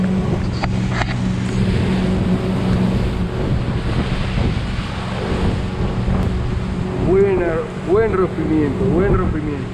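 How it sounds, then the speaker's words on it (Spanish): A motorboat with a Mercury outboard crosses on the St. Clair River under heavy wind buffeting and water wash, and its engine pitch sweeps up and down in revving bursts toward the end. "Vamos a ver el cruce con esta lancha que viene por ahí."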